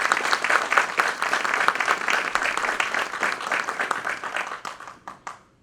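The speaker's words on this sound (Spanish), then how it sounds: "Pido un aplauso de bienvenida," An audience at a formal lecture session applauds to welcome a speaker, with dense, steady clapping from many hands that thins out and fades near the end.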